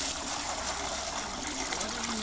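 Water flows steadily through a flow demonstration, giving a continuous trickling, rushing wash that stays close and even throughout, with no talking.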